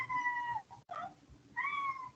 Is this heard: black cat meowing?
yes